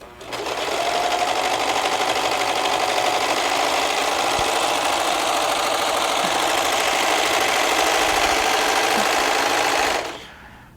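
A Brother serger stitches along a strip of fabric, its motor running in a steady, fast, buzzing whir for about ten seconds, close and loud, then stopping abruptly.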